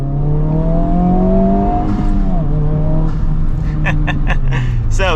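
A 2024 Honda Civic Type R pulls away, its engine droning loud and close with a rising, shifting tone, and a speaking voice comes in over it toward the end.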